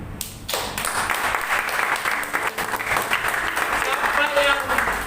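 Church congregation at a worship service clapping together in loud, sustained applause after a brief pause, the claps steady and crowded, with a voice partly heard beneath the noise.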